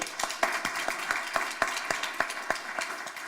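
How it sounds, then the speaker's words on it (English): Warm applause from an audience at an innovation demo day event, a burst of steady, fairly close hand clapping with distinct claps rising out of the crowd texture, and no talking over it. "we give her a warm applause"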